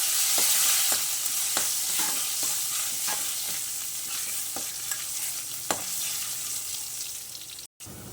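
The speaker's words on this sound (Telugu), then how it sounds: "ఇప్పుడు ఇది బాగా కలుపుదామండి" Curry leaves, garlic cloves and asafoetida crackle in hot oil while a spoon stirs the pan, a steady loud sizzle with regular scraping knocks, close and with no voices.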